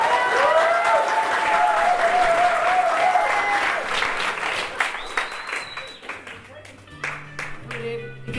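A book launch audience applauds warmly to welcome the author, dense clapping filling the room before it thins out into scattered claps and a few voices.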